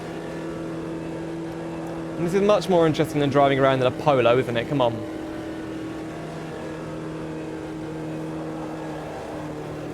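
A race car engine in the video game Automobilista 2 hums at a steady mid pitch throughout, while someone talks over it for a few seconds in the middle.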